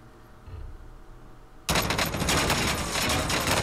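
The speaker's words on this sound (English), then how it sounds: "You can hear the bullets hitting my riot shield" Gunfire in the Warzone video game rattles rapidly against a riot shield, a loud burst of rapid impacts that starts suddenly after a quieter stretch of low background rumble.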